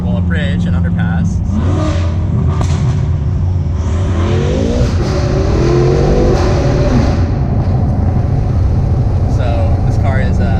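A BMW F10 M5 accelerates hard as it approaches a road underpass, its engine rising in pitch through the revs, loud and close, with someone talking over the noise.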